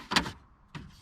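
The door mechanism of an old Emerson VHS player closes with two short, close mechanical whirring clunks about half a second apart, faint and with no talk.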